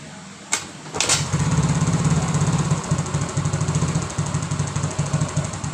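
A Yamaha X-Ride motorcycle with a weak battery is kick-started: a couple of sharp kick thumps, then the engine catches and runs with a steady, close putter.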